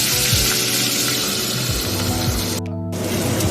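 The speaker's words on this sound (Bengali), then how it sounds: "তো তেলও এখানে বেশ গরম হয়ে গেছে। তো আমি এখানে একে একে মাছগুলো তেলে ছেড়ে দেব" Fish pieces frying in very hot oil in a pan give off a loud, steady, continuous sizzle with no talking, and the sizzle drops out for a moment near the end.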